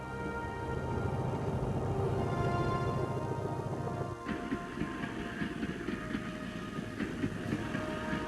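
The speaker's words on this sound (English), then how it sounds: "trains loaded with troops, tanks, and field guns could move with no risk from attack" Military trains hauling troops, tanks and field guns along a railway in North Vietnam rumble steadily, a continuous low mechanical roar shifting midway into rhythmic clattering wheel noise, fairly close and without voices.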